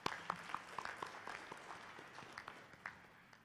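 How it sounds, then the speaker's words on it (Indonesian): A graduation audience at Universitas Bina Darma claps, distinct individual hand claps ringing out in a loose, uneven rhythm, faint and somewhat distant in a large hall. "Tepuk tangan dulu."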